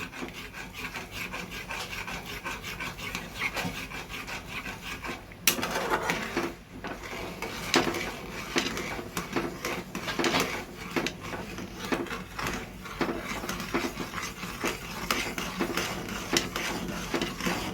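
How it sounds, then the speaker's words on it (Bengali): Raw mango pulp stirred into hot sugar syrup for mango candy, giving a steady scraping and rubbing of a spoon against the pan throughout, close and fairly loud, with a brief sharper knock midway and no talk. "এইবারে চিনির রসের মধ্যে এটাকে আমি মিশিয়ে দেব। মিশিয়ে দিয়ে এটাকে কিছুক্ষণ নাড়তে থাকবো।"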